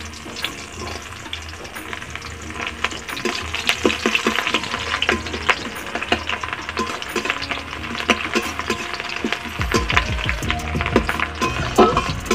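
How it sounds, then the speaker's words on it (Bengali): Chopped onions sizzle and crackle in hot oil in a pan alongside bay leaves. A steady close frying hiss is broken by clicks and scraping stirs, with a louder burst of sizzle near the end. "আর পেঁয়াজ কুচানো দিয়ে দিচ্ছি"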